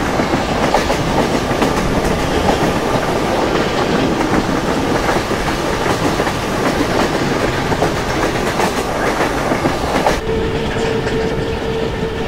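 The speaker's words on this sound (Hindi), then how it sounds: "17058 Devgiri express approaching with WKM 3 locomotive of Kalyan shade" Indian Railways Devgiri Express with a WDM-3 locomotive of Kalyan shed in a train simulator game, heard as steady loud rolling rumble and rhythmic wheel clatter, with a tonal horn-like whine entering near the end.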